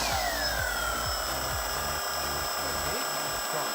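The motor of a Hobbyking Arctic Cat RC snowmobile whirs steadily, close and fairly loud, with whining tones that shift in pitch as the throttle trim is raised.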